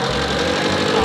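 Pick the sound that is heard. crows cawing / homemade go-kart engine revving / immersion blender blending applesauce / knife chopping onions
homemade go-kart engine revving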